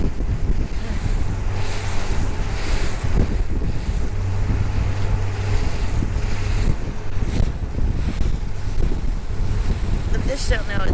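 Strong cold wind buffets a small fishing boat on choppy water with whitecaps, a loud steady roar of gusts and microphone wind noise mixed with waves slapping the hull.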